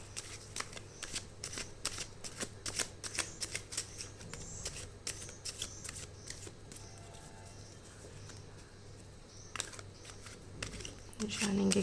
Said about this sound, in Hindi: मैं शफल कर देती हूँ कार्ड्स। जब तक मैं शफल करती हूँ